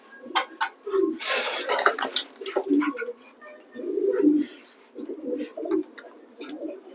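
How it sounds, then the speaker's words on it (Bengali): Racing pigeons coo in soft, repeated low throaty bursts close by, with some rustling and faint clinking in the background. "আমি কবুতর দুটো ছেড়ে দেখাই।"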